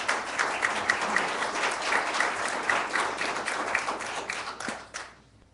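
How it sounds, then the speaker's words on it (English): Applause from the audience at a city planning and zoning meeting, steady scattered clapping for about five seconds that fades out and ends abruptly, no voices over it. "I don't know if that applause was for me coming up here"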